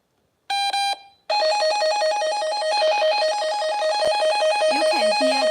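A NOYAFA cable tester in analog mode gives a short double beep, then a steady, rapidly pulsing electronic warble that continues evenly at moderate loudness, with a little faint talk near the end.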